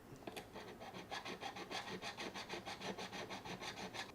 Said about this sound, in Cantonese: 咁我就用呢把 flat saw 淨係打磨嗰個位啦